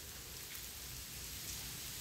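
Rain falling steadily near a shipyard building site, a faint, even hiss of drops on surfaces that continues without break and with no voices.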